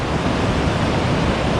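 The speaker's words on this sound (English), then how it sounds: "Just look at the ocean waves." Ocean waves near a stranded boat on the Baja coast give a steady, loud broadband wash of surf noise without pause or voices.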